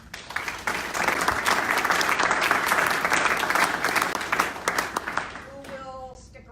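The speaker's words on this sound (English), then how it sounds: "I want to get one more round of applause for all our presenters." An audience at a community update meeting applauds the presenters, a full round of clapping that swells, holds, then thins into scattered claps and faint voices near the end.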